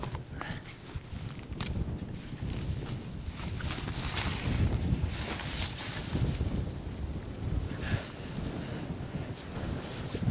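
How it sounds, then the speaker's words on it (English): A cold northerly wind blows steadily across an open mountainside, buffeting the microphone with a continuous rough rush that swells in gusts for the whole stretch, with no voices. "there's a keen northerly breeze blowing"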